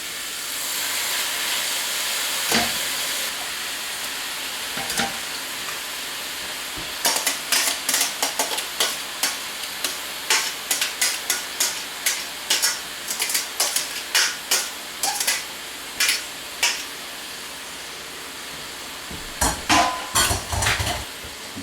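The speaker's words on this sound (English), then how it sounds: "You want to get your bacon grease a little bit hot and just start putting your greens down in the skillet." Poke sallet greens fry in hot bacon grease in a skillet, a steady loud sizzle with a rapid run of sharp crackles and pops as the greens hit the fat.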